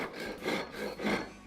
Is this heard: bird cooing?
no